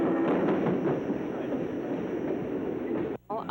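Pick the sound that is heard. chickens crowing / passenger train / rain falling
passenger train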